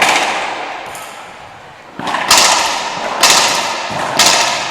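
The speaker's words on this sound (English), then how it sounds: "Bang, bang, bang. Side out for Martinez. Those were some fast, powerful shots from both women" A racquetball rally in a women's singles final at the 2018 Racquetball World Championships: three loud, sharp ball strikes crack off the court walls in quick succession, ringing in the enclosed court.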